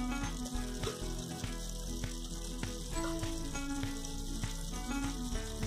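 Vegetables for Mumbai-style pav bhaji cook in a pan, a steady close sizzle and crackle with occasional stirring clinks, no talking.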